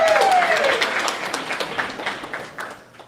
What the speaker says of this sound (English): Big round of applause for Thank you so much.